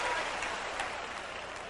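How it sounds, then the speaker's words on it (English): Audience applause during a motivational sermon, a steady, dense wash of clapping that holds at an even level for under two seconds with no voices standing out. "come on, clap your hands, somebody"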